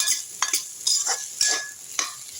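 Vegetables for tomato biryani sauté in a hot pan, a steady close sizzle broken by four or five scraping stirs of a spoon, with no talking.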